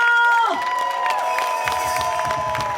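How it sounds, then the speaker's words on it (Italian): A crowd in Piazza Manzoni, Jesolo, at an evening event claps and cheers loudly and steadily, with a sustained musical tone carrying over the noise and scattered voices mixed in. "Fate sentire l'applauso per Jesolo!"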